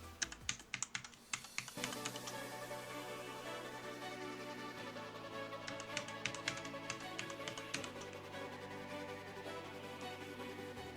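Someone types a password on a computer keyboard in a run of quick, close key taps, with a low hum underneath.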